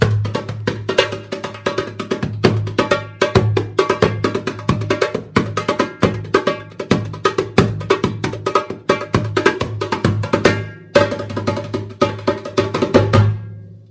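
Djembe, a membrane hand drum, played in a steady, busy rhythm of dense hits, with deep bass tones and sharp slaps, loud and close throughout with a brief pause near the end.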